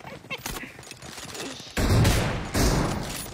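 Video game gunfire bursts out in rapid rattling volleys, loud and close, following quieter clattering; a voice talks briefly in the mix.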